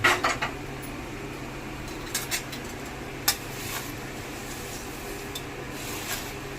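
Thin poha chivda is stirred in a pan, with light clinks and scrapes of a spoon against metal, a few sharper knocks over a quiet background, no speech.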